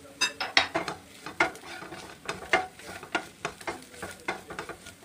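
Spices for paneer tikka masala fry on a tawa while being stirred, with rapid scraping and clinking strokes over a soft sizzle.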